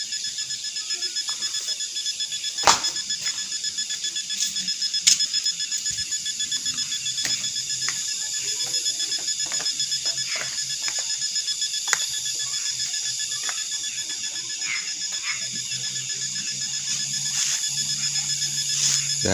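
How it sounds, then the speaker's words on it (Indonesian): Crickets chirp in dense, continuous high trills across rice fields at night, a steady layered chorus with occasional faint clicks and no talk. "Dan banyak suara jangkrik"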